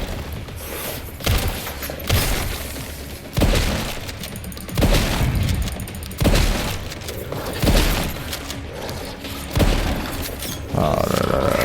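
Gunfire in the video game Resident Evil Requiem: loud, repeated shots about every second and a half, each a heavy booming blast with a short tail, over steady game ambience.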